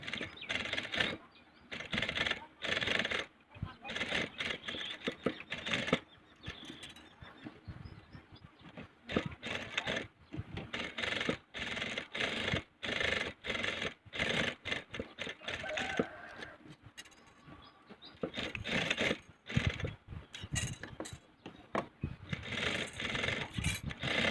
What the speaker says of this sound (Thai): ตรงนี้นะคะจะไล่เย็บตรงนี้เลย